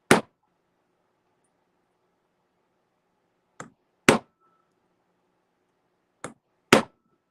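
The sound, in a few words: hammer striking a metal stamp to texture copper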